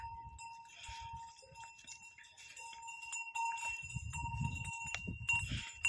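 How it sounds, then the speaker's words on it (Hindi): Bells tied on cows ringing faintly as the animals leave a cowshed on a sunny day, light metallic clinks scattered over soft hoof steps and low rustling, with no voices. "हमने अपनी गायों पर घंटियाँ बांध रखी हैं।"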